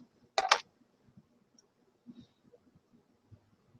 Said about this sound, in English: Let me just cut it off if the scissors work.